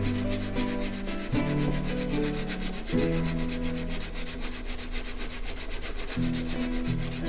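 Harbor Freight chisel bevel honed on sharpening plates, a steady close metallic rasping scrape that carries on without a break, with faint tonal ringing beneath.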